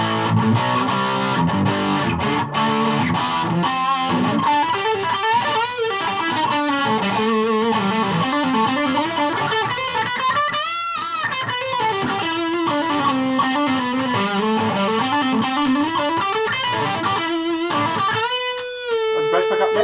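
A Gibson or Yamaha SG electric guitar plays continuous heavily distorted riffs and sustained chords through a Joyo US Dream distortion pedal into a Laney VC15 amp, loud and close with no talking.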